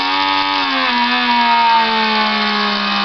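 Small electric toy motors running in a simple battery circuit, a steady high whirring whine close by whose pitch drops slightly as one motor slows down.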